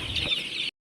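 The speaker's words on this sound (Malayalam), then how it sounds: "പൂവൻ കോഴി ഒരു 3 മാസം കൊണ്ട് അത്യാവശ്യം സൈസ് വരുന്ന പൂവൻ കോഴികളാണ്" Naked neck country chickens clucking close by, a short dense burst of several overlapping hen and young rooster calls lasting under a second before cutting off abruptly.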